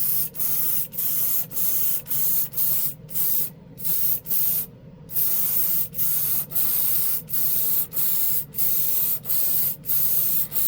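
Close-range spray gun laying a heavy wet coat of finish through a bigger needle, firing in a steady run of short bursts with brief pauses between passes, loud and alone.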